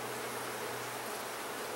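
A dense, steady hum of many honeybees buzzing close by in an opened hive, continuous and unbroken throughout.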